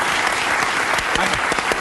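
A comedy show audience claps steadily for a short burst, a dense, even wash of applause with no talking over it.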